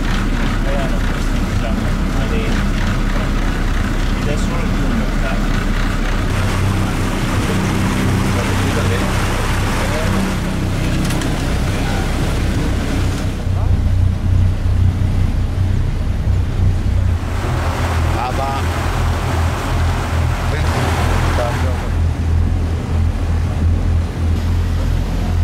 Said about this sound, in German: Auf diesem Boot hinter mir fahren wir gleich aufs Meer hinaus